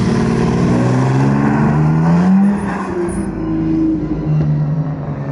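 Vintage race car engine at full throttle during a Simeone Museum demo day, a loud close howl climbing through the revs, dipping at a gear change, then pulling hard again.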